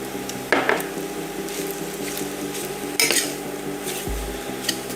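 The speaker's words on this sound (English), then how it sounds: "So we'll just stir that around." A spoon clinks and scrapes around a pan as Dijon mustard and sour cream are stirred into a deglazed sauce, with a few sharp knocks against the metal over a faint background hum.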